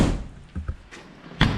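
Door of a VW Kombi van shut, a few dull knocks and thumps followed by a firm solid slam close by, with low outdoor background noise.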